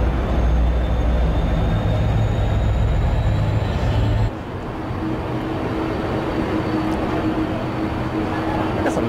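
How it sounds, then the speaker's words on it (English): Trains rolling past in Haifa, Israel, a steady loud rumble with a faint high whine, dropping abruptly partway through to a quieter, even rail noise with a sustained tone. "Got some nice trains out here in Israel."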